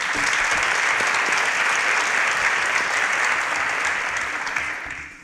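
A steady wash of crowd applause at a quiz competition semi-final, dense and sustained from start to finish, tapering slightly near the end.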